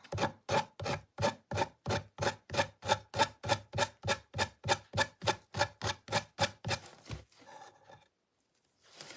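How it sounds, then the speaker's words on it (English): A sanding block rubbed back and forth over a decoupage piece, about twenty even rasping strokes in a fast steady rhythm, close and clear, slowing to a few softer scrapes before stopping. "I'm pretty much wearing this sanding block out."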